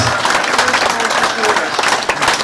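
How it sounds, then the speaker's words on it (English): An evening-show audience applauds a group of former football players, a dense, loud wash of clapping with a little crowd noise mixed in. "Let's give a big round of applause to our previous players"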